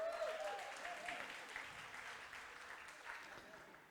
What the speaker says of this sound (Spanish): Den un aplauso, por favor